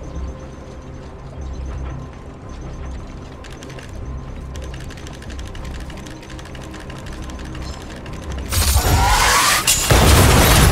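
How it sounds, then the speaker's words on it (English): A single big blast in Honkai Star Rail wipes out a group of enemies, erupting as a loud, dense burst after a steady bed of clicking game-menu and mechanical sounds. "We wiped them all out in a single explosion!"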